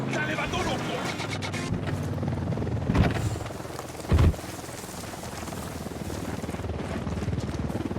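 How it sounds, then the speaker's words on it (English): A helicopter flies nearby in the Ghost Recon Wildlands video game, its rotor beating as a loud, steady throb broken by two sharp impact bursts. Voices talk over it. "Chopper, down, down."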